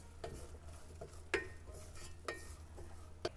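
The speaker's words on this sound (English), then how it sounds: "Stir it in. Let me mix that up." A spoon stirs sesame seeds into a Korean banchan side dish in a pan with the flame just turned off, giving soft scraping sounds and a few sharp clinks of utensil against the pan, quiet and close.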